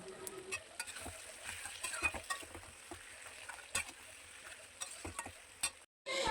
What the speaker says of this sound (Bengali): ভেজে রাখা আলু এবং কুমড়ো দিয়ে দেবো দিয়ে ভালো করে কষিয়ে নেব